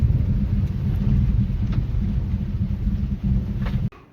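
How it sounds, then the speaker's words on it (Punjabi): Heavy rain near the India-Pakistan border roars steadily and close for several seconds, a dense continuous wash that cuts off abruptly near the end. "ਦੇਖੋ ਦੇਖੋ ਕਿੰਨਾ ਮੀਂਹ ਹੈ ਫੁੱਲ ਮੀਂਹ ਇੱਧਰ ਵੀ"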